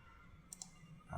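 Two soft computer mouse clicks sound close together in quiet room tone, faint and sharp, with no talking.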